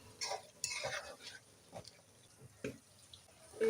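Liver cooking in a pan and being stirred repeatedly with a metal spoon, producing soft irregular scrapes and clinks over low bubbling and sizzling, close and fairly quiet.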